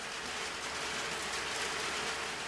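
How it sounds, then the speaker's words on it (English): Rain pours down steadily, a dense and even hiss at moderate volume that holds with no breaks, and no voices can be heard over it. "The rain fall."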